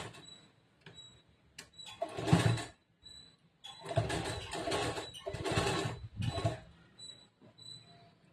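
A sewing machine stitches a boat-neck blouse in several loud motor bursts of varied length, separated by short pauses.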